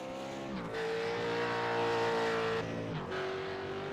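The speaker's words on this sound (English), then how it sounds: "He's probably using the clutch on the downshift by the sound of it as well." A race car engine in the iRacing simulation at Bathurst howls at high revs, with pitch steps as it downshifts and blips, loud and continuous without talk.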